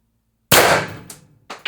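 A Pistelle X-68 HPA airgun with a .686 barrel and Reaper suppressor at 1100 psi fires one sharp, loud close shot, followed by two quick metallic pings from the target.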